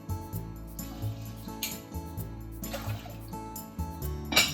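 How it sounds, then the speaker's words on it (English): Two cups of water pour into a pot of rinsed rice, with faint splashing and trickling against a soft tonal background, quiet and close. "I'm adding 2 cups of water."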